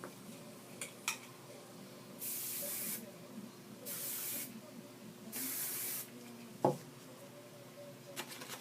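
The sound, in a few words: hairspray being sprayed on hair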